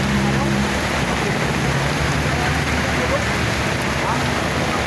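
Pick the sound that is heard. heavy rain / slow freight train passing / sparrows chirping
heavy rain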